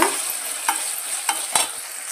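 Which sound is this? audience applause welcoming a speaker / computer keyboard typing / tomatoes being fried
tomatoes being fried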